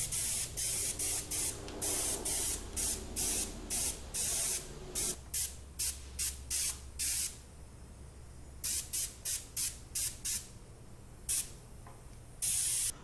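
Airbrush spraying base colour paint onto a masked prop gun, heard as a steady series of short hissing bursts, close and fairly loud, evenly paced with brief pauses between each spray and no talk.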